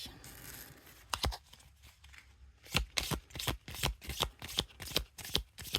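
A deck of oracle cards being shuffled by hand, a rapid run of crisp riffling snaps after a quieter start, close and clear with no voices.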